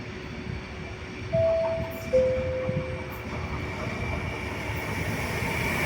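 A train passing through Padova station at platform 7, heard as a steady low rumble with two brief tonal whistle- or horn-like notes sounding over the continuous rolling noise.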